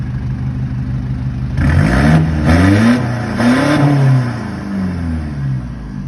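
A remapped stock 1.9-litre pickup engine is revved hard in three quick throttle blips that rise and fall over a steady idle, loud and close with no talking.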